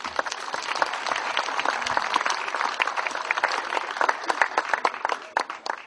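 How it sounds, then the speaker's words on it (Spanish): A room full of people clapping loudly and steadily for several seconds at a company presentation, the applause thinning out toward the end. "queremos despedirlo con un fuerte aplauso"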